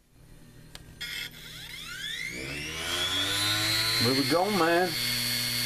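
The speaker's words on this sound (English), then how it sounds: "Put some sanding paper on top and power it up." A homemade mini sander built from recycled computer parts spins up with a rising whine that climbs to a steady high tone, wavering as it loads, while someone speaks briefly over it.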